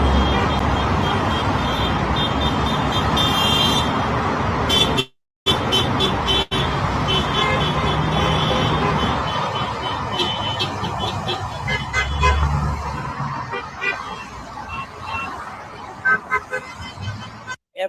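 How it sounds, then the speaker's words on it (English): Cars honk their horns at a street protest in New Jersey, a dense, continuous mix of overlapping toots and blasts amid loud traffic noise, with voices mixed in. "Everybody's honking"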